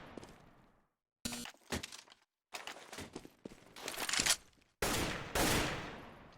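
An AK rifle fires in the game Counter-Strike in sharp, close bursts and single cracks, separated by short silent gaps and ending in a heavier, sustained volley.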